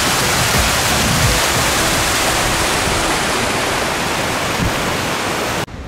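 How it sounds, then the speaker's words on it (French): Loud, dense rush of water pouring over a lock on the Nantes–Brest canal, a constant close roar filling the whole stretch before cutting off abruptly at the end. "une belle coulée d'eau"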